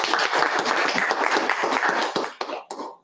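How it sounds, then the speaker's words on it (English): Applause at a Toastmasters club meeting, a fairly close, dense burst of clapping from a modest group that thins into a few scattered final claps before stopping. "So give a big round of applause to all our prepared speakers and evaluators."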